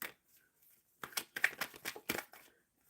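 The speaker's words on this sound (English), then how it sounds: "Shuffling for Rezia" Tarot cards being shuffled by hand, a quiet pause followed by a rapid series of crisp riffling bursts, close and clear.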